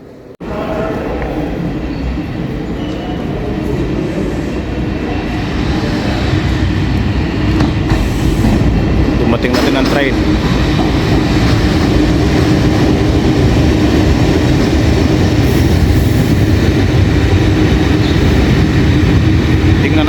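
A commuter train rumbles steadily along the rails, heard from aboard, with a continuous loud roar and faint rhythmic clatter of wheels, occasional squeaks rising briefly above the din.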